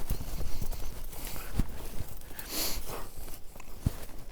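A sore-footed horse newly fitted with shoes walks under a rider on a ranch, hooves clip-clopping in a close, regular rhythm with a few sharper strikes.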